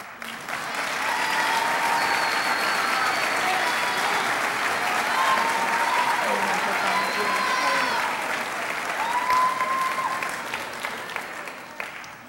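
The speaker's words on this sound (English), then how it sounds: "You may applaud." Sustained audience applause at a junior high school 8th grade recognition ceremony, a dense wash of many hands clapping steadily for about twelve seconds, with faint voices murmuring underneath.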